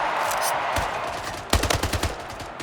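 Carbine rifle gunfire in a multiplayer video game match, a rapid burst of loud close shots in quick succession following quieter background game sounds.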